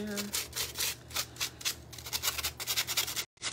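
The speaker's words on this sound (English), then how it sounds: "Give this a little sand here." Light sanding on the rough edges of a Dollar Tree acorn blank, a run of short scratchy rubbing strokes close by, steady and fairly soft.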